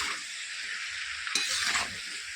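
Slices of pointed gourd fry in hot oil in a pan, a steady close-up sizzle that briefly swells louder when the pieces are stirred and turned partway through.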